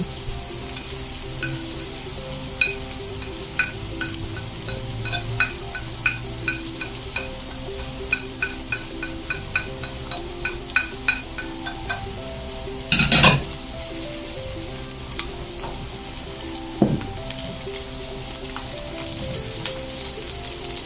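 Mushrooms and blended spices sauté in a pan with a constant close sizzle, while utensils clink and scrape against the pan in a rhythmic stir, plus one louder clatter.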